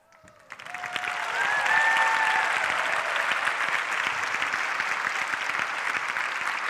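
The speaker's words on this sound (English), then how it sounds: "You clapped because they did well is the fact." An audience at a yoga session claps. The applause starts suddenly, swells within a second into dense, continuous clapping and stays strong throughout, with a few faint voices near the start.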